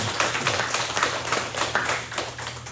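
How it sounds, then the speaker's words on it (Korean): A church congregation claps in thanks during a Sunday worship service, a dense steady patter of many hands filling the room, moderately loud and continuous throughout. "감사의 박수 한번 하겠습니다"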